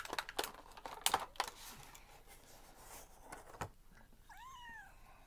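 A house cat gives a short series of rising and falling meows near the end, preceded by clicks, rustling and tapping sounds nearby; no talking.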